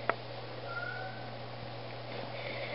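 A cat faintly meows once during a nail-trimming session, a short thin cry at moderate distance over a steady low hum, with no talking.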